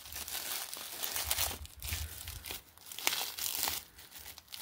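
Charger packaging torn open by hand, a steady run of close crinkling and ripping of plastic and paper wrap with brief pauses between tugs, no talking.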